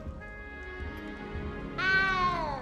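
In Hogwarts Legacy, a frightened little cat gives a faint low mew followed by a louder, drawn-out rising meow, close and with no talk over it.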